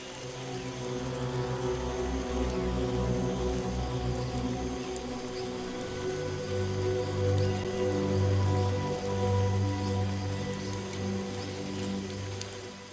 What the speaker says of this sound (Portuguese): a chuva forte que chega ao chão da floresta